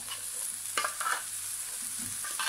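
Canned plain tuna being stirred and flaked with a fork in a pan over low heat, giving soft scraping and clinking strokes in a few bursts over a faint continuous sizzle.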